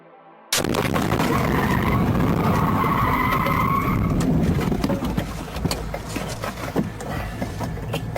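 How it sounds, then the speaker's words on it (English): A Jeep Grand Cherokee skids and crashes into a police patrol car, a sudden loud burst of tire noise and impact followed by sustained roaring, scraping road noise with sharp clattering hits. "The crash occurred when a Jeep Grand Cherokee lost control, crossed the median, and struck the officer's patrol car on the driver's side."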